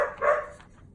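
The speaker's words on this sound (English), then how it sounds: "More dog barking." A single short dog bark, fairly faint and a little distant.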